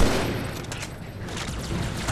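A grenade explosion in Halo Master Chief Collection fills the short stretch as a loud, dense, rumbling blast with crackling debris, heard alone.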